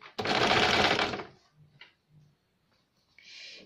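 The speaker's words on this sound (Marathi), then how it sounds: "याप्रमाणे आपण पूर्ण नेकला किनारे शिलाई देऊया." A sewing machine stitching along the neckline edge of a princess cut blouse, one brief fast burst of dense whirring stitches up close, followed by a few quiet clicks and handling sounds.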